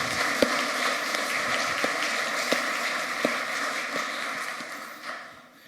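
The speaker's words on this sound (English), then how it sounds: "give yourselves a round of applause" A ceremony audience at an MRCPI conferring applauds in a dense, steady wash of clapping that carries on for several seconds, then fades toward the end.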